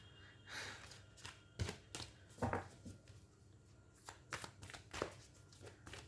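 Cards being handled and drawn from a deck make crisp, soft slaps and rustles in irregular bursts, close and quiet, with a few breathy sounds between them.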